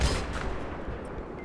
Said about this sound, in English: I know shooting the front of the tank's not ideal, but it's the only shot I've got